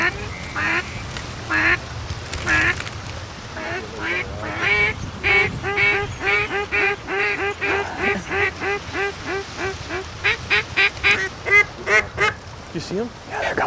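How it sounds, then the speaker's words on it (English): Mallard ducks over a flooded corn field during a duck hunt, a long run of loud, close quacks in steady repeated bursts, with hunters talking underneath. "Big mallard coming right over your head."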